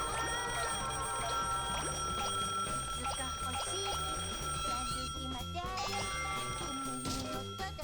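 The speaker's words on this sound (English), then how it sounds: "Phone's ringing!" A telephone rings in the Katamari Damacy REROLL video game, its repeated bell-like trills sounding over busy, constant game music and effects with no voices.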